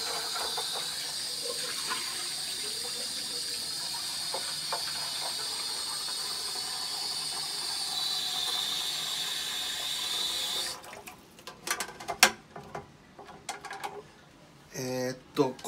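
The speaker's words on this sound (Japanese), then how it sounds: "一応 水替えを して" Tap water runs in a steady hiss as the water is changed for marimo moss balls, then stops and gives way to clattering and handling sounds from the container.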